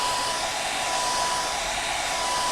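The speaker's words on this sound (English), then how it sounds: "I'm assuming my voice is carrying over the sound of the hair dryer" A hair dryer blows in a continuous, even whoosh with a thin steady whine, running close and loud during an airbrushing session, with no breaks or speech over it.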